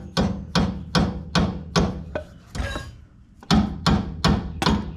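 A hammer taps a tie rod on a 1980 Ford Courier: about ten sharp, close metallic blows in an even rhythm, with one short pause partway through.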